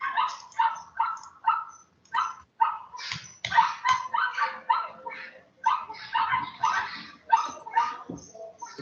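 Dogs bark close to a microphone in a rapid, repeated series of sharp barks and yips with short gaps, loud and near throughout.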